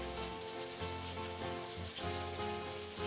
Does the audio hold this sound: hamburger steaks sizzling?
yes